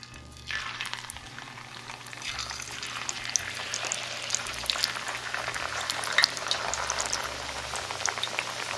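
Potatoes frying in hot oil in a kitchen, a loud, continuous crackling sizzle that starts abruptly as they drop in and keeps bubbling and popping steadily throughout, with no talking.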